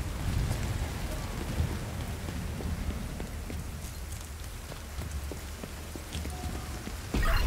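Steady rain falls in the video game Tom Clancy's The Division 2, a dense, even hiss of drops that runs throughout with no break, plus a brief louder swell at the very end.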